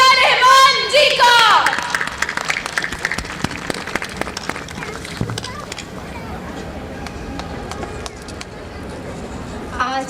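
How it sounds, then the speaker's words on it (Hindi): Loud audience applause and cheering at a school annual function stage show, a dense burst of clapping at the start that fades to scattered claps under music and hall noise. "जोरदार ताली से स्वागत कीजिए"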